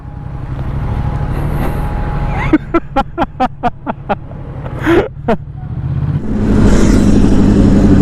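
A motorcycle engine runs steadily on the road, a loud close rumble that swells near the end, while a voice calls out in short rhythmic bursts over it.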